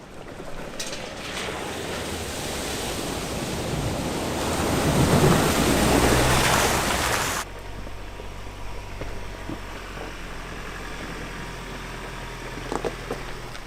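Sea waves break and wash on a beach seen from high ground, giving a steady roaring rush that swells then drops abruptly to a quieter constant wash, heard alone without talk.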